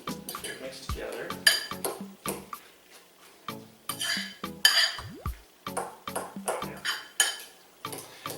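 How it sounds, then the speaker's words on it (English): Guacamole is stirred with a fork in a bowl, giving repeated close clinks, scrapes and soft squelchy knocks in an uneven rhythm, steady throughout with brief quieter gaps. "Now I'm actually just mixing and looking for big chunks so I can get away with a fork."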